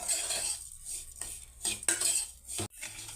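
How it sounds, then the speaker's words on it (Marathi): Grated coconut and sugar mixed in a pan on a gas stove, with a spoon clinking and scraping against the metal in several distinct close strokes, quiet overall and with no voices. "आता याला मिक्स करून घेऊयात"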